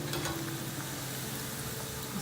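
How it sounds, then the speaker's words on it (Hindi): Muthiya, steamed dumplings for undhiyu, deep fry in oil over a slow to medium flame, giving a steady, busy sizzle and crackle throughout. "ये मुठिया हमें स्लो टू मीडियम फ्लेम पे फ्राई करना है।"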